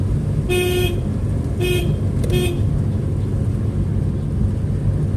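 Three short car horn toots, evenly spaced, sounding over the low steady rumble of an engine and road noise.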